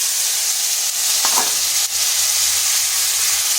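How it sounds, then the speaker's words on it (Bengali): Turmeric powder and a ground spice paste hit hot oil for a gathi kochu (taro) curry, producing a loud, close, steady hiss of frying with a brief stir midway. "দিয়ে দিচ্ছি হলুদ গুঁড়ো এরপর দিয়ে দিচ্ছি বেটে রাখা মশলাটা"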